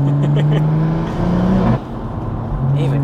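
A 700 bhp manual BMW M140i pulls hard through short-shifted gears, its loud, close engine note climbing and dropping at each shift with a sudden break partway through, under occasional talk.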